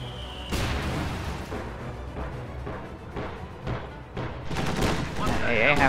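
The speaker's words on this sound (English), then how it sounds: "none of the autocannon shots quite connected there from the AA half-track" Autocannon fire from an AA half-track in a war strategy video game, rapid bursts of heavy shots mixed with booms and distant explosions, loud and busy, with a voice talking over the battle.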